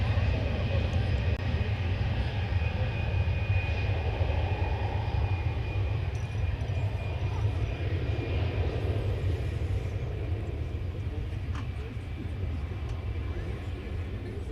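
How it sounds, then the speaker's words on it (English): An arriving Airbus A320 airliner gives a steady, loud engine roar with a deep rumble and a high whine, continuous throughout and fading slightly near the end at a busy airport. "It's arriving from Querétaro in Mexico, an Airbus A320."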